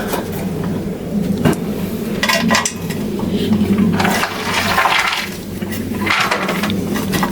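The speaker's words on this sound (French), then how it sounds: "Je vide mon réservoir." Fuel being emptied from a lawnmower tank, a continuous close pouring and splashing of liquid with occasional clinks and knocks of metal and plastic, fairly loud and with no talking.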